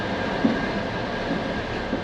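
Sleeper train from Bucharest to Chisinau running, heard as a continuous low rumble of rolling wagons with faint rhythmic wheel clicks and a steady, fairly loud drone.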